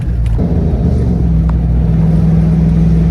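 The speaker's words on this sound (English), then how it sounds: "As you can see, it's a really smooth ride over these bumps." A Chevrolet Blazer drives over bumps, heard as a loud, constant engine and road drone inside the cabin with no distinct jolts standing out.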